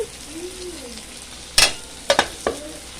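A sour fish curry of bhangon fish with moong dal, tomato and kaji lemon simmers in a pot, a low, quiet bubbling broken by a few sharp metallic clinks of a lid or utensil close by.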